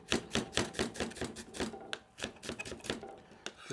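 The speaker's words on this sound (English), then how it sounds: "just dice up the onions." Rapid, rhythmic knife chops dicing an onion on a cutting board, crisp taps in quick bursts with brief pauses, close and moderately loud.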